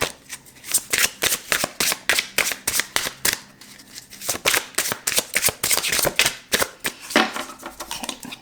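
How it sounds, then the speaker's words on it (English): Tarot card deck being shuffled and cut, a long run of crisp, rapid riffling bursts and slaps close to the microphone, steady rhythmic flutters with brief pauses between them. "They don't want to come out, so I will be cutting the deck."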